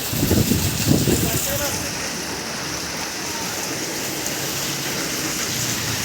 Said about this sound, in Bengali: কিন্তু বৃষ্টি পড়ছে, দেখতে পাচ্ছ